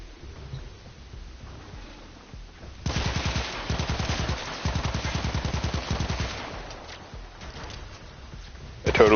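Rapid bursts of automatic gunfire from the video game Warframe, fired in repeated sustained volleys over a quiet stretch of game sound, loud and close.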